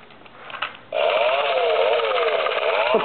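A small engine, like a chainsaw, snarls into sustained running after a brief quieter lead-in, its pitch wavering up and down for a couple of seconds at close range.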